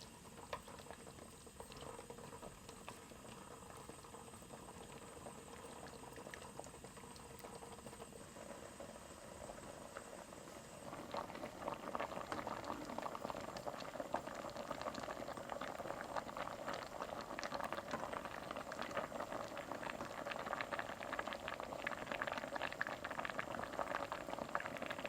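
Squid stew simmers in a pot, a bubbling boil with low rattling that grows fuller and louder about halfway through and stays continuous, close up with no speech.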